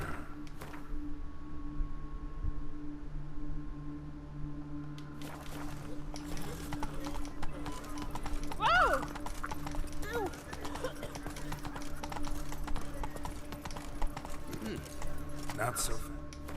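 The horse Roach trots along in The Witcher 3 game with a steady, continuous clip-clop of hooves under someone talking over the gameplay.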